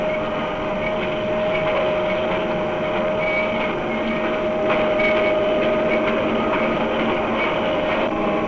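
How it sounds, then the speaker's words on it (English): A fully loaded Victorian Railways fruit train hauled by diesel-electric engines rumbles past at speed, a steady loud drone with a sustained engine whine and faint clattering from the wheels. "diesel-electric engines will pull a fully loaded train"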